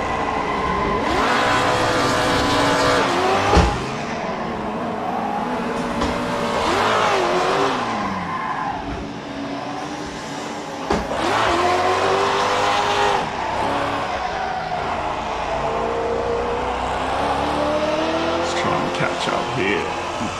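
Race cars drift and slide around a track in Assetto Corsa, their engines revving and rising and falling over and over. Tires squeal through the long slides. Voices talk over the constant engine noise.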